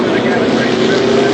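Formula Vee race cars at Amaroo circuit run on the last lap, a dense steady engine drone held at full volume throughout with no clear pass-by, blended with a commentator's voice.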